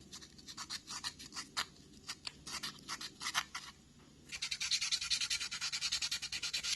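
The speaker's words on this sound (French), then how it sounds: "je vais reprendre le papier de verre grain 600" Mastic filler being hand-sanded with fine 600-grit sandpaper gives quiet, quick rhythmic scratching strokes, first in short bursts with pauses, then a steadier run of rapid back-and-forth rubbing, close and soft.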